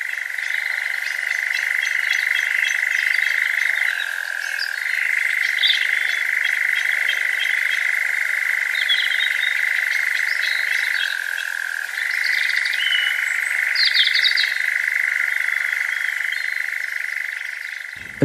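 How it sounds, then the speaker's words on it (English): A bird's strange, mechanical-sounding call that resembles a frog's croak: a steady, sustained buzzing churr that runs almost unbroken for the whole stretch, with brief dips in level and no voices. "it's almost like you can't believe that a bird has made that noise"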